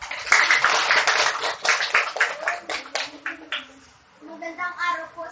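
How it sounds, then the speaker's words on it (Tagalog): A group of schoolchildren clap together at the opening of a school debate, a dense run of quick, fairly loud claps lasting several seconds before a voice begins speaking. "Palakpak mga bata."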